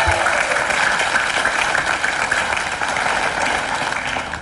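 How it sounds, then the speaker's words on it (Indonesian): Studio audience applause on an Indonesian television talk show, a steady wash of clapping from many hands that carries at an even, loud level from start to finish with no voices above it. "Tepuk tangan dong."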